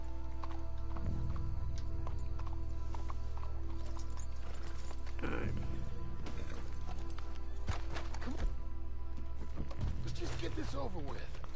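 A horse trots in Red Dead Redemption 2, its clip-clop hooves steady and close over a low game ambience, with a snort or whinny partway through.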